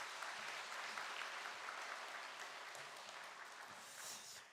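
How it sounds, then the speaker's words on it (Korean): Church congregation applauding to welcome a new member at a Sunday worship service, a fairly quiet, sustained patter of many hands that carries on evenly from start to finish. "우리 박수로 환영하겠습니다"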